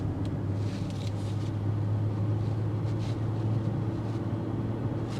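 A 2025 BMW X6 xDrive40i with a 375-horsepower engine accelerates hard, a steady low engine drone and road rumble filling the cabin from start to finish without talk.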